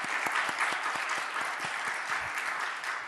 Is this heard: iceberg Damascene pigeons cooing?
no